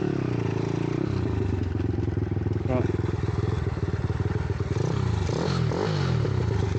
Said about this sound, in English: I keep on thinking that my engine's making weird noises.